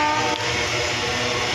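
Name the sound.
passenger train moving and gaining speed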